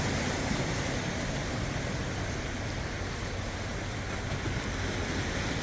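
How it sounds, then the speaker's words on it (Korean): Sea waves wash along a coastline in a steady, broadband roar with a continuous surf wash and some wind, no distinct breaks standing out and no voices. "잠시 여러분도 쉬어가시라고 시원한 바다 풍경 담아봅니다."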